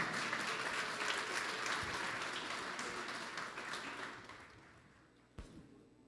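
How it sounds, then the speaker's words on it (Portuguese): A church congregation claps to praise God during a children's presentation, a broad sustained round of applause that gradually thins and fades, ending with a single sharp knock. "Você pode louvar a Deus com uma salva de palmas?"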